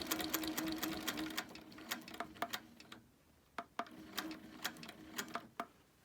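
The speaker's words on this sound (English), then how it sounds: "I'm going to line this up, and I'm going to stitch out." Quiet domestic sewing machine stitching a wholecloth quilt, a rapid steady ticking rhythm that slows and pauses briefly, then resumes with sharp individual clicks.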